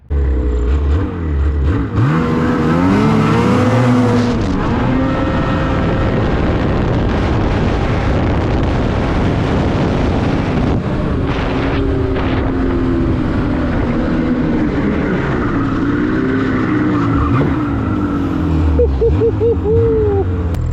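Snowmobile fitted with an Ultimax drive belt accelerating hard on a drag run, a loud, sustained engine roar with rising pitch sweeps as it revs through, close and steady throughout with wind buffeting.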